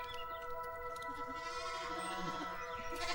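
A herd of goats used for wildfire prevention bleat in a wavering, nasal chorus, several overlapping calls at moderate distance over outdoor background noise.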